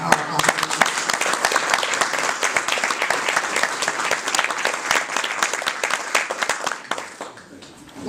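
A room of attendees at a historic preservation summit award presentation claps steadily in a thick, continuous round of applause that fades out near the end.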